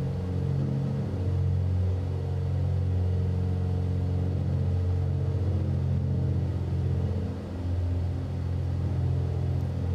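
A light aircraft engine runs in the X-Plane flight simulator game, set near 2,500 RPM, giving a steady low droning rumble throughout with a brief dip near the end, and no talking.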